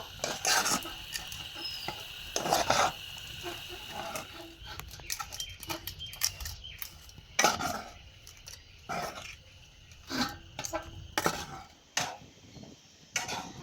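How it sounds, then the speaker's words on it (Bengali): Spiced moong dal filling for kachori is stirred and cooked in a pan, with repeated loud clanks and scrapes of a spoon against metal over a low sizzle, coming in irregular bursts. "এবার আমি এই মশলাগুলোকে ভালো করে মিশিয়ে আরও কিছুক্ষণ রান্না করে নেব"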